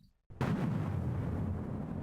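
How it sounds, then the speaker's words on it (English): An explosion sound effect from the game Doom bursts in loud and sudden after a brief silence, then rolls on as a heavy, dense rumble that slowly tapers. "because it's all the same explosion sound effects."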